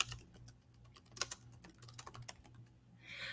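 Quiet typing on a computer keyboard, a rapid run of soft clicks and taps at close range, with no voices.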